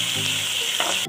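Ginger garlic paste sizzles steadily in hot oil in a pan while being stirred, a dense continuous frying hiss with a couple of brief scraping stirs, close and alone without talk.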